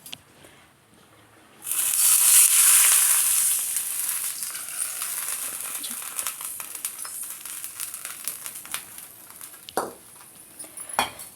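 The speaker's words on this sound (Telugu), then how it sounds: "ఇప్పుడు ఈ పోపు వేయగానే మూత పెట్టంగానే స్మెల్ పోకుండా పెట్టానండి." Hot spice tempering for tomato dal is poured in and covered with a lid, bursting into a loud sizzle that slowly fades into softer crackling, with a few sharp clinks of a pan or lid near the end.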